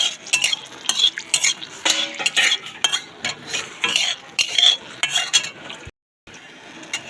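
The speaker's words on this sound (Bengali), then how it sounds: "শুকনো লঙ্কা ভেজে নেব।" Dried red chillies frying in oil in a kadai, a spoon scraping and stirring in irregular bursts over a light sizzle, with metallic clinks and a brief pause near the end.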